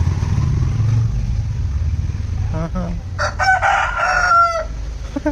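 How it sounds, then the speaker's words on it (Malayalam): A rooster crows at midday, loud and close, its long rising-and-falling call rolling over a steady low engine rumble in the background. "വേറെ എവിടെ നിന്നോ ഒരാൾ കൂവി അവിടെ നിന്നാണ് കൂവല് വരുന്നത്"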